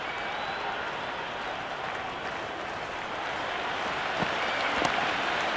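Steady roar of a video game stadium crowd in Cricket 26, a dense continuous wash of cheering and applause that swells slightly toward the end, with no speech over it.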